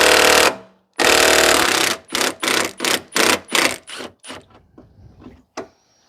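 A 12mm deep socket on a tool loosens and removes the radiator bracket holder bolt on a 2009 Subaru Impreza 2.5 SOHC: two long, loud mechanical bursts, then a string of shorter bursts that fade and taper off.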